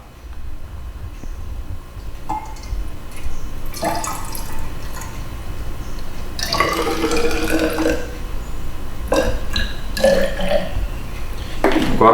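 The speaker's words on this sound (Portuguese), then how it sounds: "vamos completar até a marca. Esse balão com água destilada." Distilled water is poured from a wash bottle into a glass volumetric flask in a lab, with intermittent gurgling spurts and bubbling bursts between quiet pauses, close and fairly loud.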